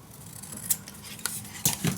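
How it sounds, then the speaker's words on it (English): Scissors snipping paper for a handmade folio, a few crisp, close cuts with sharp bright snaps spaced irregularly over a quiet background, no voices. "I'm gonna cut from mark to mark"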